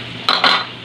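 A metal lid set down over a pan of pork being cooked for binagoongan, two quick close clanks of metal on metal over a faint background hiss.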